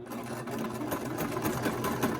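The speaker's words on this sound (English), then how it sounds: "you're going to sew together one side of it" A sewing machine stitches a seam joining two layers of mask fabric, running steadily with a fast, even mechanical clatter, close and alone for a couple of seconds.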